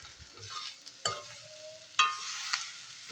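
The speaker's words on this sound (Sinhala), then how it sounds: "ඉතින් කලවම් කරගන්න" Finely chopped mushrooms stirred in a hot pan: a gentle background sizzle punctuated by a few sharp scraping and knocking strokes of the spoon, close and quiet.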